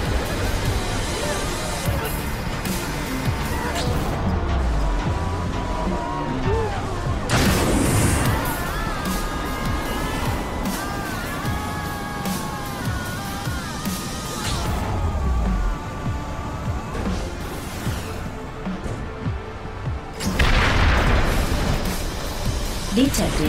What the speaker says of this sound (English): Detected multiple explosions. Damage levels extensive.